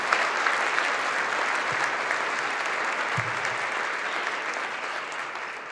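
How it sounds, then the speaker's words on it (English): Audience applause at a community breakfast event, steady and full-bodied clapping from a sizable crowd sustained throughout, close and loud with no talking over it. "Can we get a big round of applause for all these folks?"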